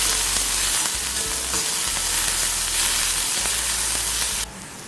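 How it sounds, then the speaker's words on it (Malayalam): Pappadam pieces sauté in hot oil in a pan for a Kerala upperi, a steady, close, dense sizzle that runs without pause and drops slightly in level right at the end. "ഇനി ഇതൊരു ഗോൾഡൻ ബ്രൗൺ ആവുന്നത് വരെ നമ്മളിതിങ്ങനെ വഴറ്റി കൊടുക്കാം."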